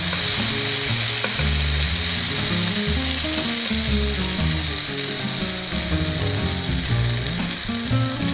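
Salmon cooking slowly on a lowered-temperature grill gives a loud, continuous sizzle with a dense crackling hiss that holds steady and close throughout.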